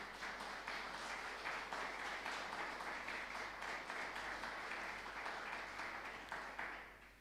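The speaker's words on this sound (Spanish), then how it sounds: "Denle un fuerte aplauso al Señor Jesús." A church congregation claps steadily and loudly throughout, a dense, sustained applause that tapers slightly at the end.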